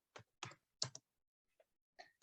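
Computer keyboard typing a command at a prompt: a handful of sharp, close key clicks in a quick irregular burst, then a couple of fainter taps after a short pause, with no talk.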